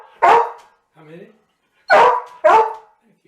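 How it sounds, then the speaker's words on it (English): Dutch Shepherd dog barking three times loudly and close, with a softer whine-like sound between the first and second barks. "That's my dog."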